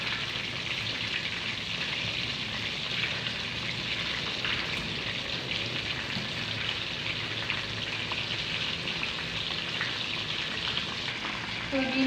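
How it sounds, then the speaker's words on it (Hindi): Chicken pieces fry in oil over a low flame, a steady, even crackling sizzle that holds at a moderate level throughout with no stirring strokes or talking. "अब हम इसकी साइड चेंज करेंगे और इधर से भी 4-5 मिनट पकाएंगे"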